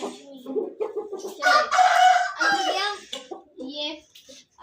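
A rooster crows loudly and close in a village yard, with clucking from its hen around it; a voice chatters faintly beneath the birds.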